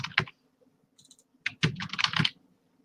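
Quick clusters of keystrokes on a computer keyboard while writing into a small document editor, close and clear, with a brief pause between an early tap and a longer run of typing.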